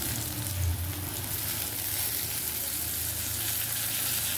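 Chopped tomato drops into onions sautéed in a pan for egg bhurji, and the pan gives off a steady, even sizzle at moderate loudness, alone, without any talking.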